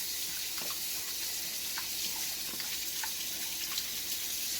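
A steady spray of water flushes over an RC car's gears, producing a constant hissing rush with faint scattered drips and ticks beneath it.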